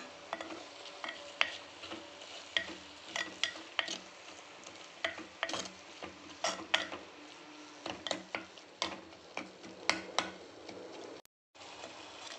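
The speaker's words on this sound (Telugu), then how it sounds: "పాలకూర వేసి ఫ్రై చేద్దాం." Spinach frying in a pan, stirred with a spoon that gives repeated sharp clicks and scrapes against the pan over a low sizzle, close and quiet, with a brief dropout near the end and no voices.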